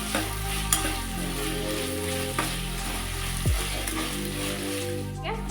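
Tomatoes frying in a pan for capsicum rice give a close, steady sizzle over a low hum, with a few sharp spoon knocks and stirring scrapes and no one speaking.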